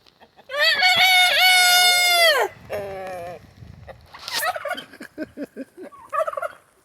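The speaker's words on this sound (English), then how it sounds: "Goofy chicken." A domestic bird lets out a loud, close, drawn-out crow-like gobbling call, followed by a rapid series of shorter clucking notes.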